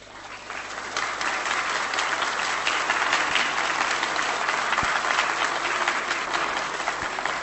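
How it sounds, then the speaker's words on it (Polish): An audience at a Polish political gathering applauds steadily for several seconds, a dense, even wash of clapping that swells after a soft start. "Sądząc z oklasków"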